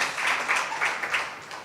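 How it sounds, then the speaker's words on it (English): Applause from an audience at a science forum, a short burst of dense clapping that stays steady and full before tailing off slightly. "Let's clap for them now again."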